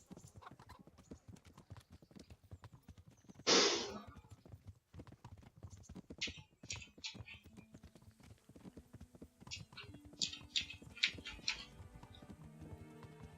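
A horse's hooves in Kingdom Come: Deliverance, a steady clip-clop of quick footfalls running throughout, with a brief loud burst early on and scattered sharper clatters later.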